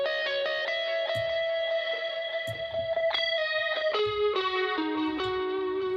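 Electric guitar in a mix runs through an H3000 effect, its sustained notes shimmering with a chorus-like wash and trailing reverb as the pitch steps down through a few held tones, with faint percussive ticks underneath.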